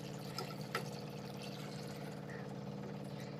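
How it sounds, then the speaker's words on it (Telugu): Water poured into a pot of village-style Telangana mutton curry, a faint, steady liquid trickle and wash at a low level with no talk. "ఇప్పుడు ఇట్లా చేసినప్పుడు కొన్ని వాటర్ పోసుకున్నాం కొన్ని అంటే మంచిగా పోసుకున్నాం"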